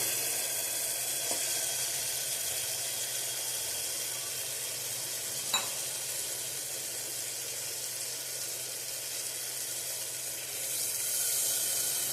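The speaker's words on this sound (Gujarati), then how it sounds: "હવે આપણે આમાં જરૂર મુજબ પાણી નાખીશું" A steady, loud sizzling hiss runs throughout as water hits hot oil and fried spice masala for a field bean and eggplant curry, with a brief clink midway and no voices.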